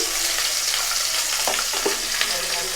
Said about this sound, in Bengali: আর দিচ্ছি সামান্য লবণ দিয়ে ফুলকপিটা আমি ভাজবো।